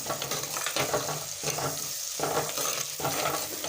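Chopped onions and tomatoes sizzle in a pan for homemade gongura chicken while being stirred, a close frying hiss broken by repeated scraping strokes of the spoon.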